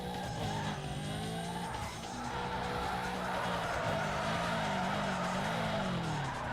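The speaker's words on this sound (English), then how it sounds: "Yanking the handbrake." Car in Need for Speed: Underground 2 sliding under the handbrake, steady engine tone with wavering skid and tire squeal running throughout, moderately loud and without voices.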